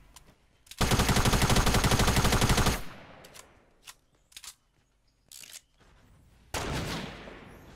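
Gunfire in the Fortnite video game: a sustained two-second burst of rapid automatic fire, followed by several short separate shots and another burst near the end, loud and close with no voices.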